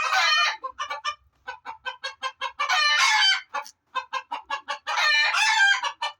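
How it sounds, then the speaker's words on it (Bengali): Rooster clucking repeatedly while eating, close and loud, a rapid run of short clucks broken by longer drawn-out calls, with no speech over it. "রাতা সুন্দর মতো খাইতে আছে, রাতা খাইতে আছে"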